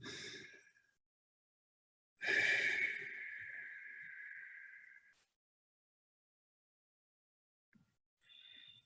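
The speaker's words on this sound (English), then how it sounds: "With each deep breath we take, our body will relax more and more." Slow deep breaths during a guided relaxation exercise in a church service, a short exhale, then a long drawn-out breath lasting a few seconds, and a faint final breath after a pause, close and alone.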